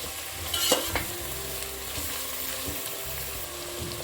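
Home-style chicken curry frying in an open pan, with a steady soft sizzle under scraping stirring strokes of a spoon, faint and close, and no one speaking.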